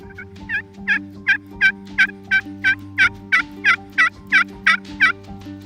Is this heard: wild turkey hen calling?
yes